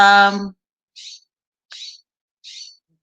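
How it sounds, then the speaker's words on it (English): Three short, high bird chirps spaced evenly about a second apart, clear and fairly close, following a brief burst of voice at the start. "You guys hear the birds chirping?"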